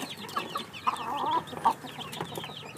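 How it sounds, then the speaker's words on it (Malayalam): Native country chicken chicks at a poultry sale point in Neyyattinkara, Thiruvananthapuram, cluck and peep in short scattered bursts, fairly close, with no talk over them. "എല്ലാം നാടൻ കോഴിക്കുഞ്ഞുങ്ങളാണ്."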